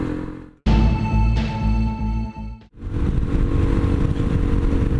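A Suzuki DRZ400SM motorcycle on a Japanese expressway, its engine droning loud and steady close up, with a brief drop and gap before the roar resumes under heavy wind rush.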